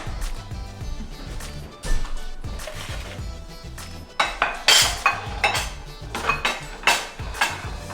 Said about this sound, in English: And then we're going to go ahead and get our catfish out of the oven that we cooked earlier.